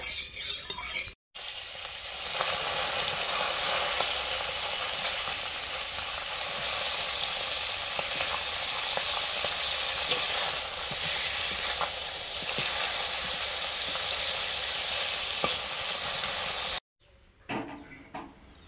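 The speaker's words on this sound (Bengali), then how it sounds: "বাবা তো মাংস খায় না, এই জন্য মাছগুলো ভাজা হবে।" Freshly caught fish fry in a pan with loud, dense, continuous sizzling and hissing that cuts out briefly near the start and again near the end, with no voices.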